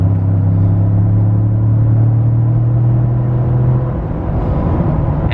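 Ford 10-speed automatic car pulling hard on the highway to pass, a loud steady engine drone with strong low harmonics that holds for about four seconds, then eases into rumbling road and wind noise.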